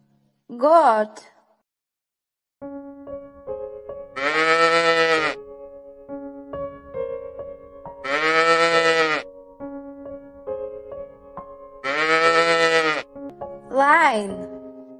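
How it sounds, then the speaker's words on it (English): A goat bleats three times in long, wavering calls over soft background music, with short spoken voices at the beginning and end. "Goat."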